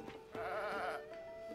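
A single wavering goat bleat in the video game Zelda: Tears of the Kingdom rises clearly over a soft background hum, followed by a fainter trailing call.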